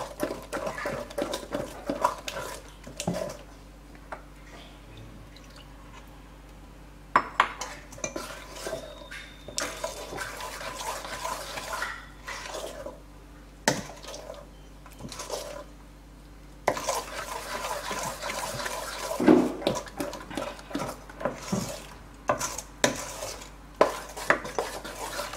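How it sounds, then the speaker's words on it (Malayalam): A spoon beats batter in a bowl to break up lumps, giving repeated scraping clinks and knocks in uneven bursts, close and fairly crisp, with pauses between spells of stirring. "ഇല്ലെങ്കിൽ ഈ സ്പൂൺ കൊണ്ട് തന്നെ നന്നായിട്ട് നമുക്ക് അടിച്ചെടുക്കുക"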